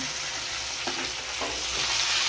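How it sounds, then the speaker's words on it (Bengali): Potatoes fry with spices in a pan, giving a steady sizzling hiss with a couple of brief stirring scrapes, close and moderately loud. "আর মশলাটা আলুর সঙ্গে ভেজে নেবো"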